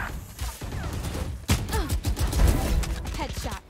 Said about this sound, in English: I was just blind firing that because I know it's a corner.